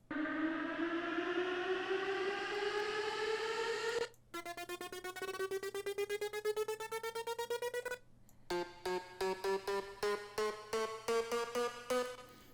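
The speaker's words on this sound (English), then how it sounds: "And then over here I have the leads, or the risers" Electronic synth leads and risers from a build-up in an EDM track. A long, loud, rising tone sweeps upward, then repeated stuttering synth notes pulse in faster, choppier bursts, with no voices.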